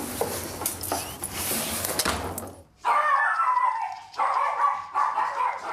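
A dog barks and yips in a home, first amid rustling and movement, then several sharp close barks and whimpering yelps in short bursts.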